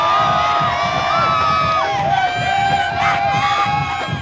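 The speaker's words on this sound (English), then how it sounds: "Much to the delight of the sellout crowd here at Jones Stadium." A sellout college football crowd at Jones Stadium cheers and shouts in a sustained roar, with whoops and yells rising and falling in the stands.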